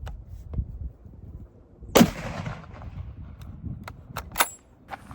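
A single sharp .357 magnum gunshot cracks into stacked tires, loud and close, with a brief rumbling tail, among lighter clicks and thumps in an outdoor setting.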